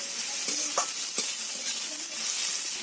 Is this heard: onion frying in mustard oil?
yes